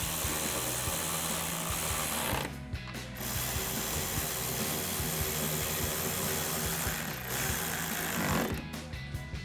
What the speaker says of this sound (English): And we'll tighten them down with our 10mm socket.